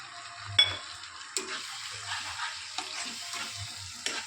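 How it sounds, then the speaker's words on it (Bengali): Tomato paste and onion frying in a pan for a prawn curry, a low hiss with several spoon-on-pan knocks and stirring scrapes spaced through the clip. "টমেটোর কাঁচা গন্ধটা যাওয়া অব্দি ভেজে নেবো ভালো করে"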